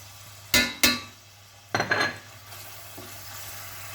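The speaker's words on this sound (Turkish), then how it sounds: "Kıyma kavrulduktan sonra bir yemek kaşığı salçayı ekliyorum. Karıştıracağım." Ground beef frying with a spoonful of tomato paste, stirred in a pan: two sharp utensil scrapes, then a longer clattering stir under a soft steady sizzle, close and fairly quiet.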